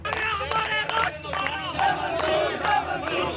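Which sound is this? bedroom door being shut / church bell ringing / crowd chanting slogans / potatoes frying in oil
crowd chanting slogans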